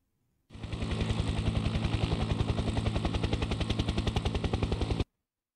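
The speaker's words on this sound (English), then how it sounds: "It makes helicopter noises and flies." Rapid, even thudding of helicopter rotor blades from a flower pot in the video game Noah's Ark, loud and close, starting abruptly and cutting off after about four and a half seconds.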